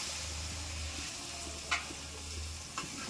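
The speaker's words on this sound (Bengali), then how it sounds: "আমি আগে থেকে করে রাখা গরম জল দিয়ে দিচ্ছি" Hot water going into a pan of jackfruit and chicken curry, a steady close sizzle and bubbling with two brief sharp clinks of a utensil against the pan, no voices.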